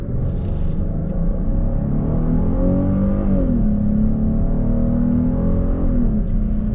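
A 2026 Kia Carnival EX minivan with a naturally aspirated V6 and 8-speed automatic pulls away, its engine note rising in a steady, loud drone, dipping once at a gear change before climbing again, with no talk over it.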